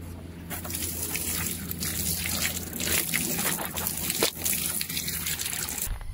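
Cold water from a village water source in Gorkha runs in a steady, close trickle and splash, continuous for the whole stretch with no voices.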